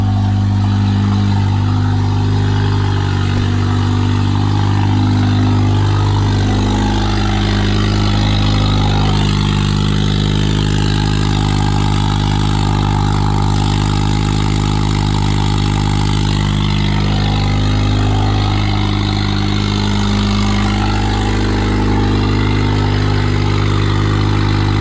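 A car engine running on E85 fuel idles steadily while it warms up, a loud, continuous low rumble throughout with only slight shifts in tone and no talking.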